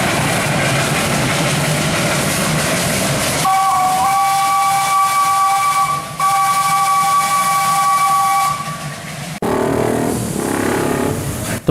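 A loud steam locomotive whistle blasts in a long sustained tone over constant hissing steam in Java, then cuts off and the steady hiss continues.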